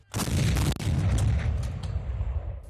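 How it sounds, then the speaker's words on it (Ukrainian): Two heavy booms from a Rapira anti-tank gun firing in quick succession during a military exercise, each leaving a long rolling rumble that slowly fades. "у бій вступили артилерійські розрахунки протитанкових гармат рапіра"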